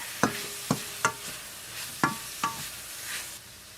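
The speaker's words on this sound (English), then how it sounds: "we'll mix that all in and cook it 1 minute." Pressed garlic stirred in a hot pan, a handful of sharp, evenly spaced scrapes and taps of a utensil against the pan over a faint sizzle, close and moderately quiet, with no talking.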